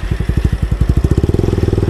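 A Bajaj Pulsar NS200 motorcycle engine with a loud full-system aftermarket exhaust, deep rhythmic pulsing that quickens slightly as it revs, close and alone.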